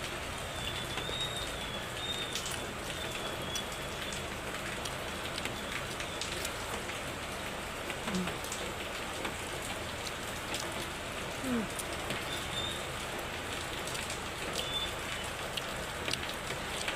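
Steady rain patters on surfaces outdoors during a flood, a dense, even hiss that lasts throughout, with a faint bird cooing now and then in the background.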